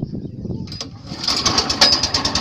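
A motorboat engine on Gaidatal lake in Rupandehi catches and starts partway through, rising from quiet low rumbling into a steady, close, buzzing motor drone that keeps running to the end.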